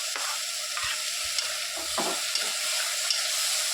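Steady sizzling of tomatoes sautéing in a pan, with occasional stirring scrapes, close and continuous without talk.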